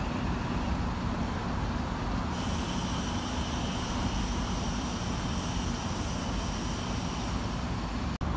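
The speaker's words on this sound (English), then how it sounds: "It's a tiny little bus, that," A tiny Arriva bus drives past at a bus show flyby, heard as a broad, steady rumble of engine and road noise that holds fairly level throughout, with a faint high whine early on.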